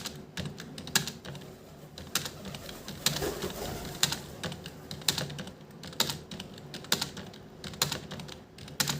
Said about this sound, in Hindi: ह टाइप करेंगे, उसके बाद द टाइप करेंगे, ह द।